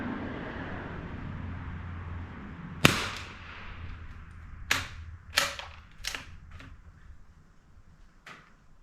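Several sharp reports from a Marlin Model 25 rifle, one at about three seconds followed by a quick cluster of cracks, outdoors in wind over a low steady background rumble.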